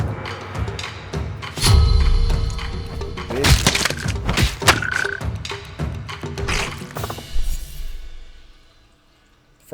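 Frog croaking in a video game, a loud low croak near the start followed by cracking, splintering bursts and a tonal squeal, busy and layered before fading to near silence at the end.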